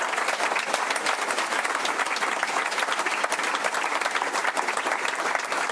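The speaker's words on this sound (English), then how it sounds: "So a big round of applause for all of the candidates." Sustained audience applause at a Liberal election night event in South Australia, a dense, steady wash of clapping from a large crowd lasting throughout with no pauses.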